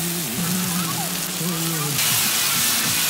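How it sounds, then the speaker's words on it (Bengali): Spice paste for doi katla, a yogurt fish curry, fries in a pan with a steady, close hiss that runs throughout while voices talk over it. "দই কাতলা যেটা হবে সেটা এখন মশলা কষানো চলছে।"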